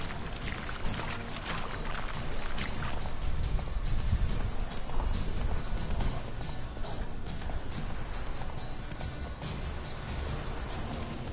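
Horse hooves clip-clop steadily and close by over a continuous rumble, with an occasional whinny and a rider urging the animal on, the rhythmic beats persisting for the whole stretch.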